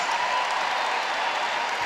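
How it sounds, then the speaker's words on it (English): A crowd at a women's college basketball game in an arena, UConn against Rutgers, keeps up a steady, dense wash of applause and cheering throughout, loud and even with no pauses. "Big round of applause."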